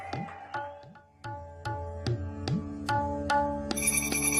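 Mobile phone notification tones on farmers' phones as cash transfer messages arrive, a rapid series of short bright ringing chimes and bells overlapping one another, building into a dense cluster of tones at the end.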